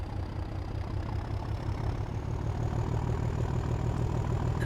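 A heavy diesel locomotive engine in Train Sim World 5 rumbles steadily at a low, throbbing idle, constant and close with no voices.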